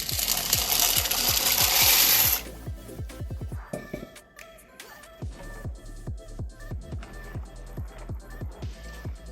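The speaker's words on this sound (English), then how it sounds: "I have 4 cups of the pasta, 4 cups, and this is what I'm going to add to my pot." Dry pasta is tipped from a container into a pot in a loud rattling rush for about two seconds, followed by a run of scattered clicks and taps as pieces settle and are handled.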